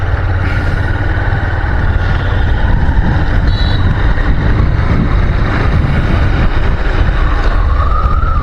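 A motorbike rides slowly along a narrow inner road through a school area, its low engine rumble steady and close throughout with heavy wind buffeting over it and no voices.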